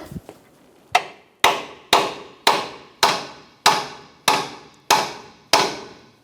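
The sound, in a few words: light hammer tap seating a ball joint pivot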